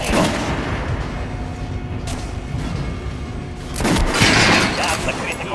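Gunshots fired at an armored target in Metro Last Light Redux, a few loud sharp reports with clanking impacts, heard alongside a talking voice.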